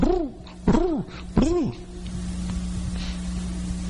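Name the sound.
voice imitating a dove cooing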